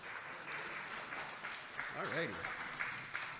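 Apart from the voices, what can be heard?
audience applause at a debate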